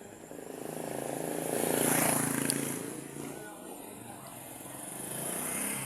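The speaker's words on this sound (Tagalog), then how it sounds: "But dito, ayan, may motor, may jeep." A motorcycle and a jeep pass along a street at night, their engine noise swelling to a peak and then fading, with a distant hum lingering afterward.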